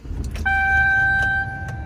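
A GM truck's dashboard warning chime sounds once as the key is turned, a clear steady electronic tone lasting about a second over low engine rumble.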